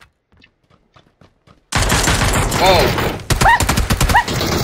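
Loud, dense bursts of automatic gunfire in the battle-royale game PUBG erupt after a quiet, muffled stretch and continue almost without pause, with a short exclamation from a player.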